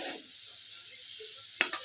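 Potato fry stirred in a kitchen pan, with a steady close sizzle throughout and a couple of sharp utensil knocks against the pan near the end.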